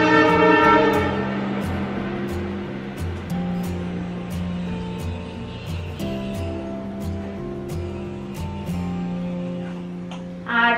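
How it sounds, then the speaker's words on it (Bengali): A train passes on a railway line running right beside a house in a hilly area, a steady rolling rumble with horn-like sustained tones and rhythmic clacks throughout, fairly loud and close, with no talking. "তো ওই কারণে একটু আধটু তোমরা আমার ব্লগে মোটামুটি ট্রেনের আওয়াজটা পাবে"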